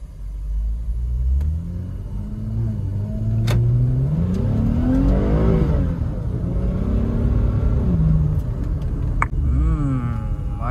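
A newly bought car's engine rumbles steadily while driving, with rising and falling revs as it accelerates, loud and close with no talk.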